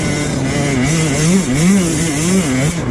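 An enduro motorcycle on a slippery trail engine revs up and down close by, its pitch rising and falling with the throttle.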